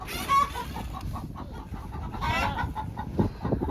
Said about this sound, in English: All the chickens are freaking out